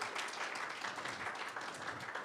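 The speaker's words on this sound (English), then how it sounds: "So let's hear a little applause" A short burst of soft, steady applause from a church congregation welcoming two guest ministers, distant and even throughout.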